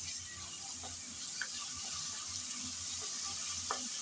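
Ginger-garlic paste frying with prawns for a spicy prawn bhuna, a quiet steady sizzle with a few faint scrapes of stirring, heard close but low in level.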